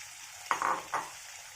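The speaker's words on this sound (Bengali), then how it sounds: "তেল গরম হয়ে গেছে, পনিরগুলো দিয়ে দিচ্ছি" Paneer pieces drop into hot oil, giving two short bursts of sizzling and spitting over a faint background, close and fairly quiet.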